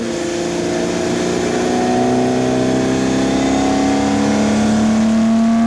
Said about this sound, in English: Sounds just like a 6-cylinder BMW. At least they're driving it hard. It's actually got some intake noise.